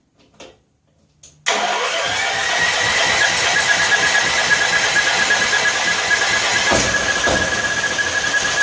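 An 8500 watt electric-start generator engine cranks briefly and then catches, settling into a loud, steady, close-up run with a persistent high whine, no talking over it.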